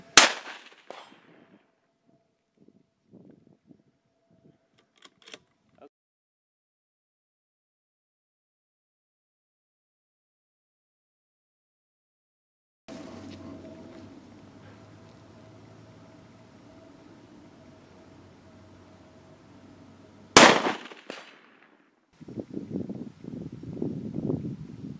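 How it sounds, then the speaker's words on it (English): A Mossberg MVP rifle chambered for .223/5.56 firing: a sharp crack at the start and a louder one about twenty seconds later, with outdoor hiss and faint rustling between them and long stretches of near silence. "When I was firing this rifle, I could shoot really tight groups, and we're going to roll in some shooting footage right here."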